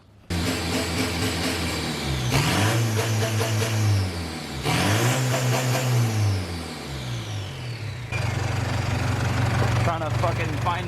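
An Isuzu D-Max with a 4JJ1 diesel engine runs on a dyno, revving hard in repeated swelling bursts that rise and drop back to a rough idle, loud and close throughout.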